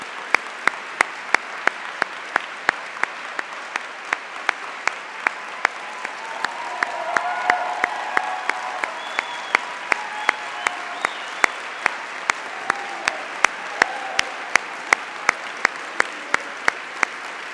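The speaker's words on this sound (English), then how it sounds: "I guess if we want to get that kind of applause, we just say the words Jane Chu" Applause from the audience fills a hall at the Nancy Hanks arts lecture, a dense, steady wash of many hands clapping that runs throughout without a pause.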